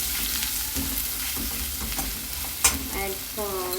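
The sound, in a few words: onion sautéing in a pan with green chili and dal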